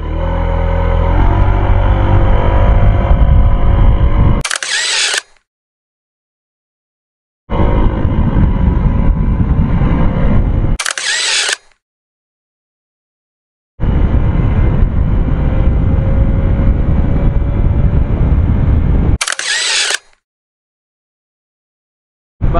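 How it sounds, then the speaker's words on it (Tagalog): Honda Airblade 160 scooter accelerating hard in an acceleration test, a loud, close engine drone rising steadily in pitch through three separate runs, each cut off abruptly with silent gaps between. "Airblade 160 acceleration test in 3,"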